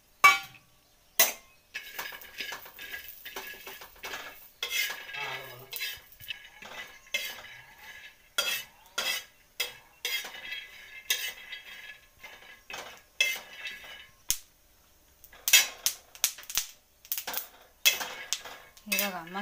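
Peanuts are dry-roasted in a pan while being stirred for green chilli thecha, with repeated close metallic scrapes, clinks and rattles of a spatula against the pan coming in irregular bursts between short pauses.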